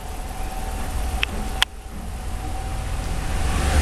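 A supercharged 5.7-liter HEMI V8 in a 2010 RAM 1500 runs on a chassis dyno with a steady, loud mechanical drone. Two sharp clicks cut through the middle, and the engine note swells slightly toward the end.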